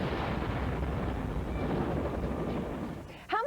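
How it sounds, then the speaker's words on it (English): A car explodes in an action movie scene: a sustained, loud roaring rumble and blast-like rush that fills the whole stretch before fading, with a brief voice breaking in at the very end. "don't forget the macho car explosion scene"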